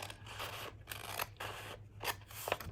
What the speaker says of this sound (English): And then you're gonna cut right down that line.